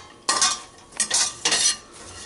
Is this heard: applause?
no